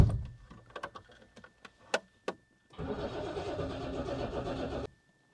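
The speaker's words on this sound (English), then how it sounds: "I'm going to start it up, and then you can listen to the Tapety engine" A Princess 2200 car engine cranks with a few sharp clicks and brief bursts, then catches and runs steadily at a near, fairly loud idle for about two seconds before cutting off abruptly.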